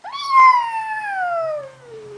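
A voice imitates a cat's meow, one drawn-out, falling mew sung close and clear with no other sound around it.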